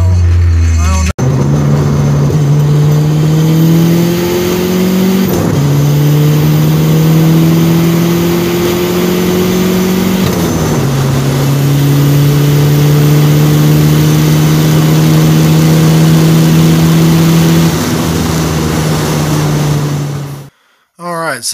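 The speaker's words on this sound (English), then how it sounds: "this is the data log of that 140 mile per hour pull" A turbocharged Ford Probe GT with an HX35 turbo makes a hard full-throttle pull from 60 to 140 mph. The loud, close engine note climbs steadily through each gear, with three clear dips at the shifts.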